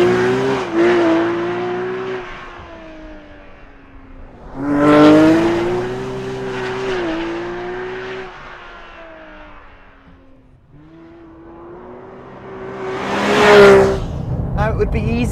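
Porsche 911 GT3 RS at speed, its engine note climbing and falling through repeated surges with loud swells, passing close and strong, mixed with tire and road noise.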